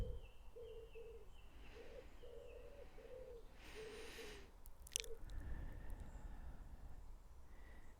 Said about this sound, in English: Maybe it's enough to just sit and listen to the wood pigeon cooing in the background.